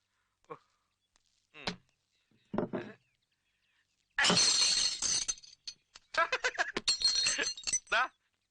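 Glass bottles smash loudly several times in quick succession, bright shattering crashes with tinkling shards, following a few sparse thuds in near silence.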